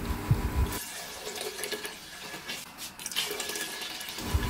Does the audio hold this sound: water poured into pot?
yes